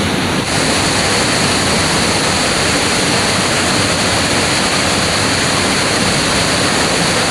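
Rushing waterfall at Curug Leuwi Hejo in Sentul, Bogor, running at high flow, a loud, steady, broadband roar of falling water heard up close with no break.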